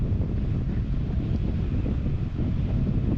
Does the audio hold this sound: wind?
yes